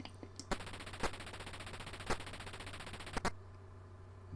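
Atari 2600 slot machine game producing a rapid rattling drum-spin effect, a steady buzzy clatter with a few sharp clicks, ending abruptly after about three seconds, faint and with no voices.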